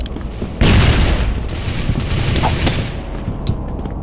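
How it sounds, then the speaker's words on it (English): Flash grenade going off in the Crossfire video game, a sudden loud burst followed by sustained rumbling noise and scattered crackles, close and filling the space. "Flash grenade."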